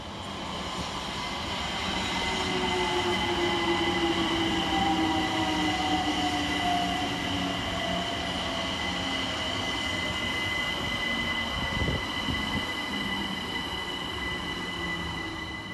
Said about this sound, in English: Next to arrive on the far side is 378142, working the 1001 London Overground service from Highbury and Islington to West